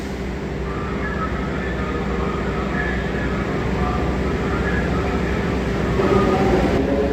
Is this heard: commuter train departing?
yes